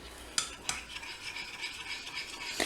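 A spoon stirs golden syrup into melted chocolate in a bowl for a lemon and stem ginger chocolate treat, giving a soft, steady scraping with a few sharp clinks against the bowl, close by and with no talking.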